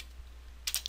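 Brief burst of computer keyboard typing near the end, a few quick close keystrokes while coding a Minecraft 1.6.2 Forge mod, after a quiet start with steady low hum.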